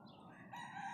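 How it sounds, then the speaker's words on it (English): A brief burst of chicken noise, a short squawking cluck rising over a faint background. "The chickens are making lot of noise because I took them their eggs."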